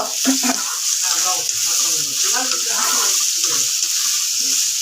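Sliced onions fry in a pan in a home kitchen, giving a steady, close, bright sizzling hiss that runs unbroken throughout, with a voice talking over it.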